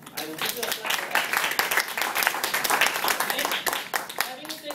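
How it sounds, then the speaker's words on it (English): An audience at a Toastmasters meeting bursts into dense, continuous clapping that holds steady for several seconds, with voices faintly underneath. "I will give you a clap for that."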